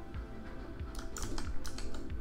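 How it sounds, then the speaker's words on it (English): Computer keyboard keys pressed in a short irregular burst of clicks and taps, close and fairly quiet, with no talking. "You can hit Control Alt and C on your keyboard."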